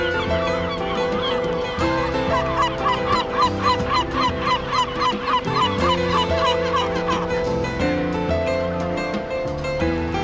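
A dense seabird colony on a rocky island nature reserve off Portugal: many birds calling and honking continuously, loud and layered, with a steady background wash.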